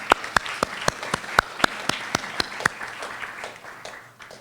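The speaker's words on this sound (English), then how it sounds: "So I'd like to give them a round of applause." Scattered audience applause at an anniversary celebration, with a dozen or so distinct claps in an uneven rhythm that thin out and fade after a few seconds, heard fairly close and alone.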